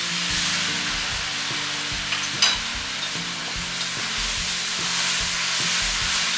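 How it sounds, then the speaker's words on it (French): Carrot and mixed vegetables stir-fry for sautéed noodles, a dense, steady sizzle with rhythmic low stirring knocks and one brief metallic clink, close and continuous with no voice. "ajouter la carotte d'abord, mélanger pendant 20 secondes, puis le reste des légumes"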